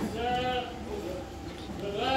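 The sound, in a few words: castrated male goat bleating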